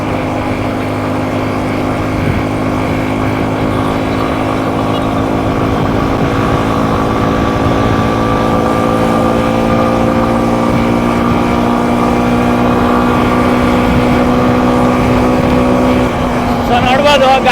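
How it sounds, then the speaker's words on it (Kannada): A Suzuki V-Strom 250 motorcycle engine runs steadily and loudly for a long stretch, a smooth sustained drone that rises slightly in pitch as it pulls, with a brief change near the end. "ಪಿಕಪ್ಪು ಅಷ್ಟೇ ನೋಡ್ತಾ ಇರ್ಬೋದು ಯಾವ ರೀತಿ ನುಗ್ತಾ ಇದೆ ಗಾಡಿ ಅಂತ."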